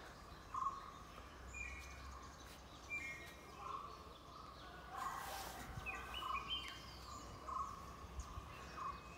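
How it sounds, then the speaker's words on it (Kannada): Songbirds call in a coffee plantation during blossom season in Coorg, giving faint, scattered chirps and short whistled notes at a distance over a steady outdoor hiss. "ಗಾನ ಪಕ್ಷಿಗಳ ಕೂಗು ಚೆನ್ನಾಗಿದೆ ಅಲ್ಲ."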